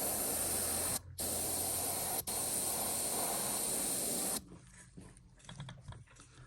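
A spray gun painting a fishing lure hisses loudly in a continuous burst, briefly cut twice, then stops, leaving quiet clicks and handling sounds.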